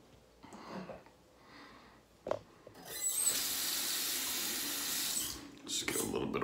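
Water runs from a tap into a sink during a wet shave, filling a steady hiss for several seconds, stopping briefly and then starting again. It follows a few quieter handling sounds.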